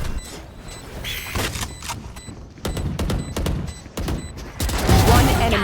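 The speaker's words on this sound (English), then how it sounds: "Beautiful shots there from Monster." Gunfire in a Valorant match: sharp, rapid shots in irregular bursts, some clustered and some spaced apart, loud and close, building to a denser volley at the end, with faint game sounds between the bursts.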